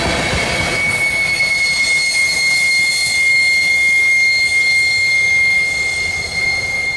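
A freight train rolls steadily past, close and loud, with a caboose at the rear; continuous rumble of cars with a sustained high wheel squeal riding over it throughout, no voices.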